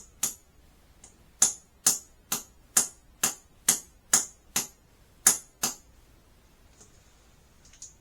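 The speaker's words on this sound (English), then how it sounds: "And you give it a little tap with the hammer." A rapid series of about a dozen sharp metallic taps of a hammer on a tool during toilet replacement, evenly spaced at first, then a couple of faint ones trailing off; close and crisp.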